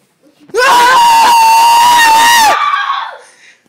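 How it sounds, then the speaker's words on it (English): A person lets out one loud, close yell that holds at full strength for about two seconds, then breaks off and trails away into quieter noise. "Why are you yelling like that?"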